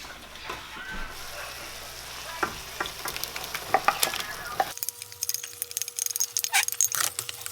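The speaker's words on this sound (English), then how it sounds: "I gotta cook this crawfish for about 6 minutes on medium heat." Crawfish cooking in a pan on medium heat for crawfish enchiladas, a steady sizzle with frequent clicks and scrapes of stirring that grow busier and crisper partway through.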